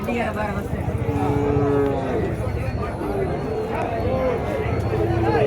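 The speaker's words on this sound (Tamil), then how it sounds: "இந்த பக்கம் ஒரு கண்ணுக்குட்டி இருக்குது பாருங்க" Cattle and calves moo repeatedly at a busy cattle market, several overlapping calls near and far over a dense crowd murmur, with people talking throughout.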